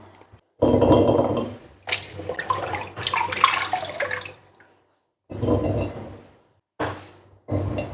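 Rose hips are rinsed in water in a kitchen while making compote, in intermittent bursts of splashing and sloshing with faint clinks between quiet pauses and no speech.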